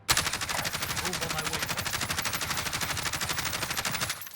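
Rapid automatic gunfire in Call of Duty Warzone while aiming down sights, a steady fast burst of evenly spaced shots lasting about four seconds, close and loud.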